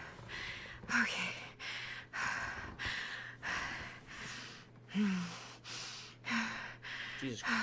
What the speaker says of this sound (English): I'm breathing so loud